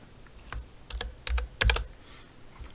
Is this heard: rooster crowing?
no